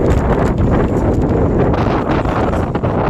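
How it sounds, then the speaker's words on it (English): Loud, constant wind buffeting a microphone, a rough low rumble with gusty fluctuations throughout and no voices. "windy out here"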